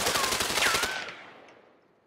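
Rapid automatic Uzi fire in the video game A Way Out, a dense burst of closely spaced shots for about a second that trails off into a fading echo.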